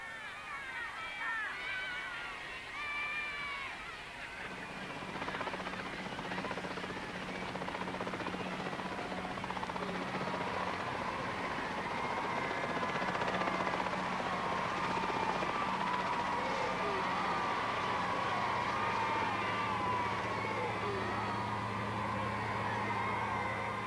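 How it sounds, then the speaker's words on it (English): A helicopter drones steadily overhead, its rotor thrumming as a constant low hum for the whole stretch, with faint background noises around it. "she was back in a helicopter again."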